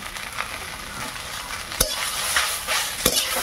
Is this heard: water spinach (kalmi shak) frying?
yes